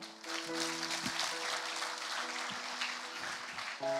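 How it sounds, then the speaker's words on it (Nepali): A church congregation claps together in a short burst of applause, a continuous mid-level patter of many hands with a faint tonal hum running underneath. "हन्नाका लागि ताली मारिदिउ न हौ."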